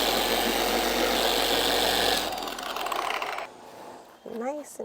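An SPTA dual action polisher runs loud and steady on car paint, its whirring drone dropping in intensity partway through and winding down, with a brief voice near the end.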